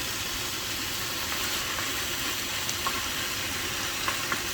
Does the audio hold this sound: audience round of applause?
no